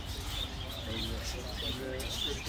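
Birds chirp and coo in a bird reserve in Medina, a soft, continuous chorus of small calls at moderate distance, with faint voices mixed in.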